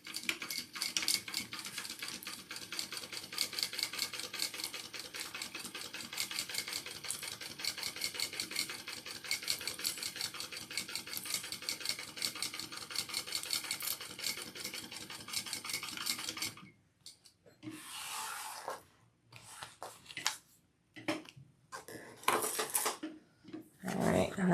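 A sewing machine stitches the bottom seam of a fabric crossbody bag in a fast, continuous close whirring rattle for most of the time, then stops and gives way to short bursts of handling and fabric rustle.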